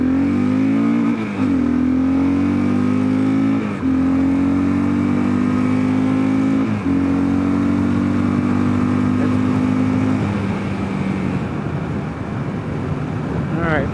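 A 2022 Kawasaki KLR650 adventure motorcycle fitted with a 16-tooth front sprocket accelerates onto a highway, its loud single-cylinder engine climbing in pitch through several gear changes, with wind noise building toward the end.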